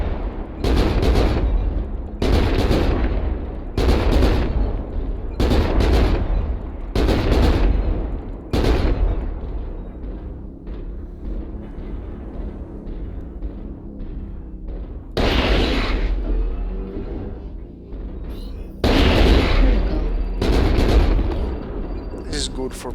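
Ultra AC/10 autocannon in MechWarrior Online, mounted on a Battlemaster mech, fires loud, evenly spaced bursts of rapid booming shots, pausing in the middle before the volleys resume.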